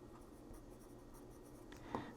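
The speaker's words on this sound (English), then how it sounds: "it makes a wonderful scritching sound" A carpentry pencil scratching across paper as it writes, a soft continuous scritching close to the microphone, ending with a brief sharper stroke.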